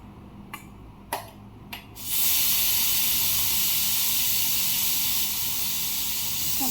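A pressure cooker holding brinjal and potato curry gives a few sharp clicks, then bursts into a loud, steady steam hiss that runs unbroken to the end.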